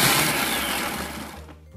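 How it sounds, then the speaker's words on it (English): A Thermomix blitzes roughly chopped spring onions into pork and shrimp dumpling filling, a loud, steady whirring buzz heard close up that runs continuously before cutting off abruptly near the end. "we're going to add our spring onions that have just been roughly chopped and give them another quick blitz."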